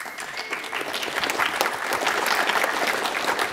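An audience at an art lecture claps, the dense applause swelling slightly and holding steady for a few seconds.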